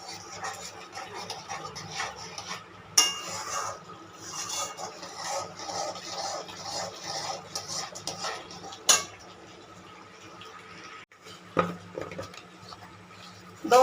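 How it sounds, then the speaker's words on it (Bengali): A spoon scrapes and clinks against a pan as milk is stirred continuously for white chicken korma, with soft rhythmic rubbing and a few sharper knocks on a quiet background. "আমি লিকুইড দুধ দিয়ে দিলাম। এবার এটা অনবরত নাড়তে হবে।"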